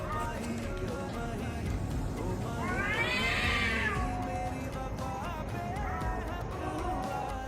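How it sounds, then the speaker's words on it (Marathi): A cat meows loudly and repeatedly at a house at night, with one long drawn-out wail in the middle and more calls afterward over steady background noise. "काय माहिती कुठलं मांजर काय."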